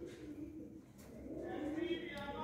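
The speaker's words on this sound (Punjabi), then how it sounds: "ਕਬੂਤਰ ਦੇਖੋ ਜਿਹੜਾ ਬੈਠਾ ਟੋਕਰੀ 'ਤੇ ਕਿੰਨਾ ਸੁਨੱਖਾ ਆ ਜੀ" Pigeons cooing softly nearby, one perched on a basket among a fancier's flying pigeons in Ludhiana, low throaty coos rising over faint background voices.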